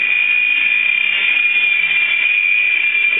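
Air Hogs Sharpshooter toy helicopter with a scratch-built fiberglass fuselage in flight, a steady high-pitched motor and rotor whine held close and constant.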